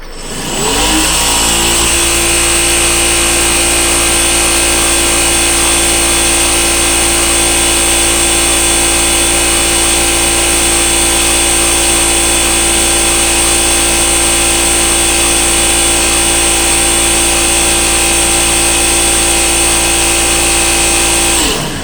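A Stroker CP3 high-pressure diesel fuel pump running on a test bench at 3,500 RPM, a loud, constant mechanical whine and hum that holds steady without a break from start to finish.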